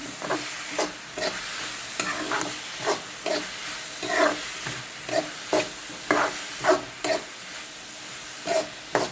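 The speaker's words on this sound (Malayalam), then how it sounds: "ഉള്ളി വാടി ഇനി നമുക്ക് തക്കാളി ഇടാം. അത് കൊത്തി എരിഞ്ഞെടുക്കണേ." Onions and tomatoes, salted, are stirred and fried in a pan: rhythmic scraping strokes of a spoon against the pan repeat over a soft, steady sizzle, close and fairly quiet, with no talking.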